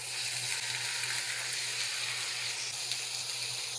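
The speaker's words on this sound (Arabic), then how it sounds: "نبلش نحمس بالخضار" Onion and vegetables sauté in olive oil for an Iraqi shrimp biryani, a steady close sizzle with faint stirring scrapes and a low hum beneath, no talk.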